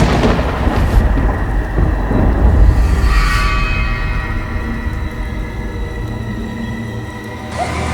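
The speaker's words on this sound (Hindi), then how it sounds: "इतने में बारिश और हल्की हो गई।" Rain falls steadily with a deep, rolling thunder rumble building near the start and fading slowly, the kind of stormy backdrop used in a horror story, with no voices over it.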